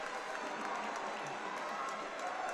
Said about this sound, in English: And a big cheer for the Guatemalan